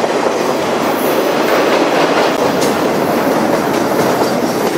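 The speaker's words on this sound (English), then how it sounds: "It's not every day you see these wind turbine trains." A freight train carrying wind turbine blades on flat cars rolls past close by in the open Wyoming countryside, a loud continuous roar with steady clickety-clack of wheels over rail joints and faint squeals.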